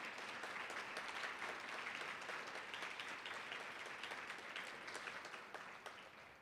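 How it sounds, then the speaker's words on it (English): Sustained audience applause at a University of California, Riverside organizational excellence event, steady dense clapping filling the room at an even level, tapering slightly at the very end. "Let's give them a round of applause."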